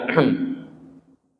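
A single brief throat clearing, a short gruff rasp lasting about a second, close and fairly loud, then fading to silence.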